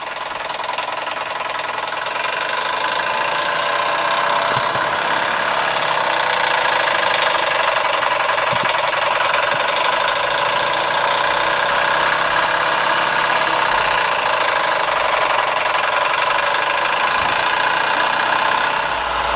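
A Stirlingkit Retrol SE-03 model steam engine running flat out on a homemade gas burner: a steady, loud, continuous whirring hiss with a faint rapid mechanical beat and no pauses.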